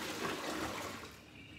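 Water poured out of a cup or kettle into a sink at bedtime in a home kitchen, a steady splashing rush that runs for about a second and a half, then tapers off quietly with no talking.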